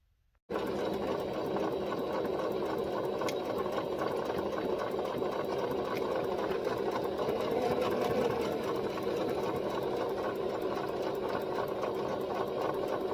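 A sewing machine stitches knit fabric for a child's dress, starting after a brief silence and then running in a steady, close, even mechanical hum with fast needle ticking for over twelve seconds.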